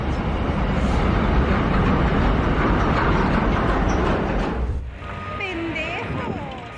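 A heavy freight train rolls past close by, a loud, steady rumbling roar for several seconds that drops away fairly suddenly, leaving quieter background with a few thin whistling chirps.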